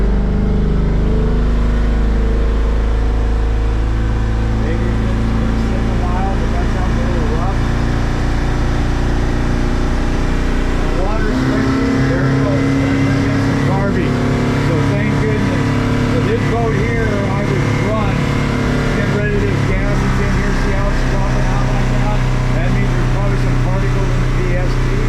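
Yamaha T8 outboard motor on a 2004 North River boat, running rough with a loud, uneven drone that surges and sags, heard close, with a voice talking over it throughout.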